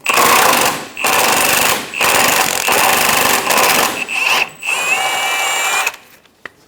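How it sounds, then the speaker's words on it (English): Pneumatic impact wrench with a 19mm socket loosening the front control arm bushing bolt on a 2003-2007 Honda Accord, loud repeated hammering bursts of about a second each, stopping and restarting, then a whirring spin-down, close by. "Using a 19mm socket, remove the front bolt for the control arm bushing"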